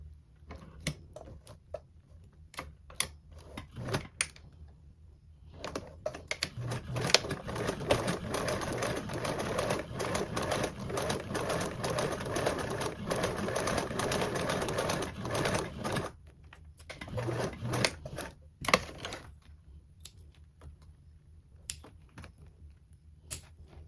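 A sewing machine topstitching a toiletry bag: a sustained run of rapid needle stitching lasting about ten seconds, framed by brief shorter bursts and handling clicks, close and fairly loud.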